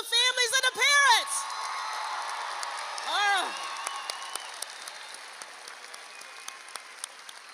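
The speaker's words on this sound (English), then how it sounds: "Let's give a round of applause for the families and the parents." A graduation ceremony audience applauds for families and parents, opening with loud whoops and cheers over clapping, then settling into scattered, thinning claps that fade toward the end.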